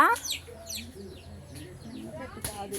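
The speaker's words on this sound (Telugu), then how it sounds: "అమ్మో కోళ్ళు కూడా ఉన్నాయి" Chickens clucking softly nearby in short repeated calls, with some chirping and a person's voice mixed in over the yard ambience of a home garden with mango and lemon trees.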